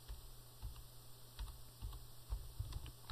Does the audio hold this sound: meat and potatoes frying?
no